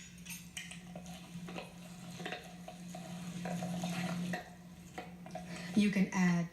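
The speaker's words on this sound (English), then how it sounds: "So now I'm going to go in with my hands and make it a really nice firm" Oat tortilla dough is kneaded by hand, giving soft irregular squishing and light knocks against a surface, with a brief voice near the end.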